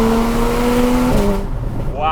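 A Porsche 911 GT3's engine, with a Ninemeister exhaust and its valves open, revs loudly and steadily, then drops in pitch with a rough burble before climbing again, close by.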